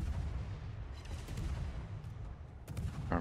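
Naval guns of a warship in the World of Warships game fire shells, heavy booming reports rolling over a low continuous rumble, with a sharper burst near the end.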